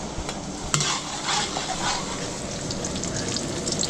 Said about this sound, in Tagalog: So paglagay na tayo ng bawang, ay mantika.